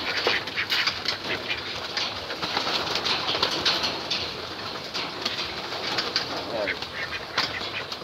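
A large loft of racing pigeons, close to a hundred birds, fills the air with dense cooing, scattered wing flaps and rustling, a steady busy flock sound.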